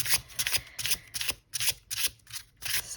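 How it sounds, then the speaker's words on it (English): A deck of tarot cards with flexible cardstock is shuffled hand over hand, giving a quick series of crisp, close riffling bursts separated by short pauses, with no talking over them. "I love the way these kinds of cardstocks hand over hand shuffles."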